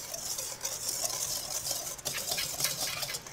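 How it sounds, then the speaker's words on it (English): Dry baking ingredients such as nutmeg, cloves and salt are stirred together in a bowl for eggnog bread, a soft, steady scraping and swishing with light clicks, close and quiet, without speech. "Mix this together until combined."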